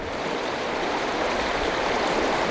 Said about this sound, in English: the levee was breached and bay water came pouring in